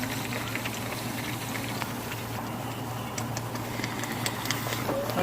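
Onions cooking in a pan, giving a constant soft bubbling and crackling simmer with faint ticks, close and even throughout.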